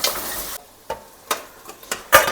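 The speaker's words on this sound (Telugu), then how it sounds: "ఇప్పుడు ఇందులో టమాటా వేసుకోవాలి టమాటా వేసుకుని అలా కలుపుకోవాలి" Tomatoes are stirred with prawns frying in a pan, giving short bursts of sizzle and scraping at uneven intervals with quiet gaps between. There is no talking.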